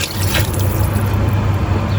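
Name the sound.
pouring hot broth into chicken and rice pot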